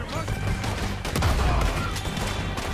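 A shotgun fires during a gunfight on a train robbery in Red Dead Redemption 2, with loud blasts over dense battle noise and voices mixed in.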